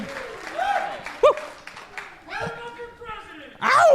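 A live podcast audience claps and cheers, with bursts of applause and high whooping shouts rising and falling over a few seconds, ending in a loud final swell.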